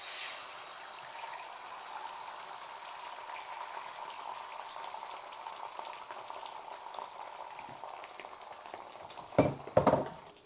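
Eggs sizzle and bubble steadily in a hot pan for egg fried rice, with a few sharp metallic utensil clatters near the end as they are broken up.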